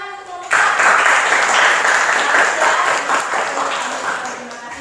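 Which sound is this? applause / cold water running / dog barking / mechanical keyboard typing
applause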